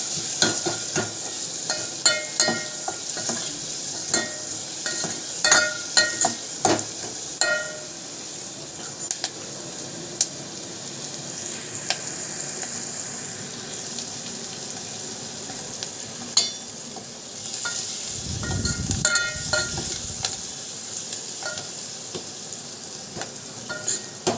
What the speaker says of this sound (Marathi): कांदा टाक कांदा छान असा लालसर आपण करून घेऊ